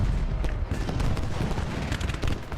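Artillery fire in the Civil War battle game Ultimate General: Gettysburg: a dense, continuous rumble of overlapping booms and crackling gunfire, heavy and sustained throughout with no pauses.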